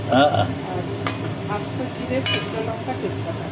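Whole cumin, dried chili and bay leaf are tempered in hot oil for matar dal with bottle gourd, a loud sizzle under the clatter of stirring in the pan, with a voice talking over it.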